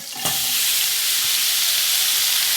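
Two tablespoons of butter sizzle steadily in a pan on low heat, a continuous bright frying hiss that swells in after a brief soft onset and holds evenly, alone without voices.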